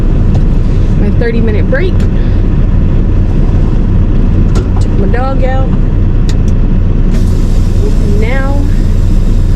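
Steady low roar of highway traffic passing near a truck stop built over the highway, constant and loud beneath someone talking throughout, with a few brief higher whines from passing vehicles.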